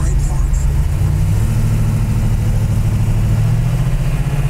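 A 1970 Plymouth Sport Satellite fitted with a shift kit pulls away, its engine a steady, loud, low rumble that rises slightly as it gets moving, with people talking over it.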